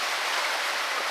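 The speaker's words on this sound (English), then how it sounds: "Don't know whether you can hear the rain behind me" Steady rain pours down outside a cottage back door on a stormy day, a dense, even hiss of drops on surfaces that holds unbroken throughout at moderate loudness, with no voices.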